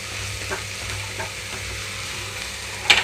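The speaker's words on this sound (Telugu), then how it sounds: "కట్ చేసి పెట్టుకున్న బీరకాయ అన్నీ వేసేసుకుంటున్నాను" Ridge gourd pieces frying in a pan, a steady close hiss and crackle of sizzling with faint stirring, ending in a few brighter clinks.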